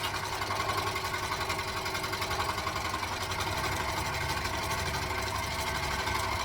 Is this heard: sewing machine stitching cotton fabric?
yes